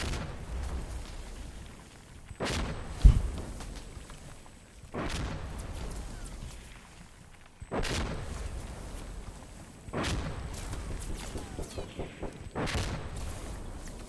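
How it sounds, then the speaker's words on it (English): Incoming mortar rounds land in the shooter game Insurgency: Sandstorm, several booming impacts spaced a few seconds apart, each a sharp blast followed by a rumbling tail, fairly distant under faint background noise. "now we got mortars coming in"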